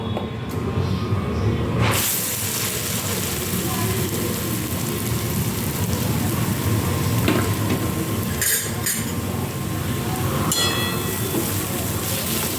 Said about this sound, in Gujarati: નારિયેળને ઘીમાં શેકી લેવાનું છે.